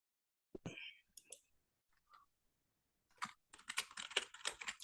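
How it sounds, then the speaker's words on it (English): Keys tapped on a computer keyboard while a search term is entered, with a short burst of clicks near the start and then a steady, dense run of close typing that ends the stretch. "We'll type in remote."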